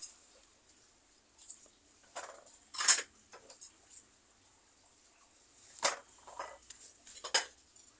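Dishes and pans clink and clatter in scattered bursts, a few sharper knocks standing out against a quiet background with no talking.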